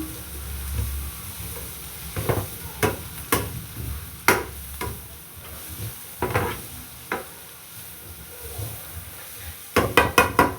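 Chicken fried rice sautéing in a pan, with a steady sizzle under sharp scraping and clinking strokes of a spatula against the metal, loud and close.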